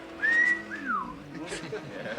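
In a scene from The Flash TV episode, a person gives a clear whistle, a held high note sliding into a falling swoop, then a softer trailing phrase under faint background sound.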